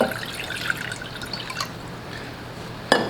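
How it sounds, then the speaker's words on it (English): Water poured into a pot for strawberry sauce, a soft continuous trickle with faint drips and a sharp clink near the end. "I'm gonna add my large water,"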